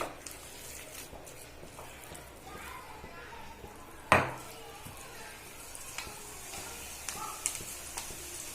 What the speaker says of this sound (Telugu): ఇప్పుడు ఆయిల్లో వేసుకుందామండి, పకోడీ లాగా వేసుకుందామండి.